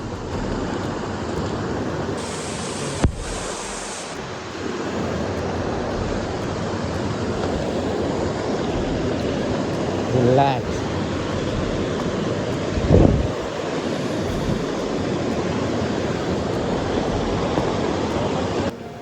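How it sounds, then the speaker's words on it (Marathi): Waterfall near the Kondane caves pouring down from the cave area, a continuous broadband roar of rushing water heard close by and unbroken, with a few brief bumps and knocks over it. "हा धबधबा लेणीच्या तिकडूनच आला आहे आणि या लेणीला कनेक्ट आहे"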